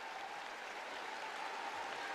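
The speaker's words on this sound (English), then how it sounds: "Again, bringing raptures from this Moscow crowd." A Moscow arena crowd applauds a figure skating pair after their performance, a steady dense wash of clapping that holds evenly throughout with no voices over it.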